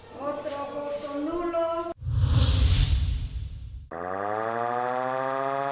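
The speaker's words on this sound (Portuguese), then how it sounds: "Estas sirenes de ataque aéreo operadas manualmente" A manually operated air raid siren wails in rising and falling tones, broken by a loud windy whoosh, then climbs again into a sustained howl.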